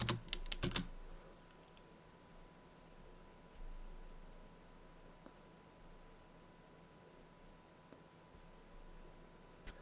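Typing on a computer keyboard, a quick burst of clicking keystrokes at the start, then scattered faint taps over quiet hum.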